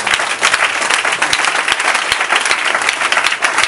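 A church congregation bursts into steady, loud applause during an Easter sermon, many hands clapping together in a dense, continuous wash that fills the room without pause.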